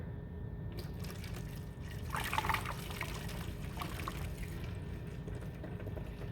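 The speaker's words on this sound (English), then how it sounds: "first thing we'll do is remove the old coolant" Old, sludgy aqua-green coolant drains steadily out of a car's coolant reservoir, making a continuous liquid trickle with a brief louder splashing burst partway through.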